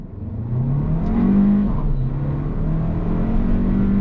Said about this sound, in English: I want to do a little acceleration test here from a dead stop in sport mode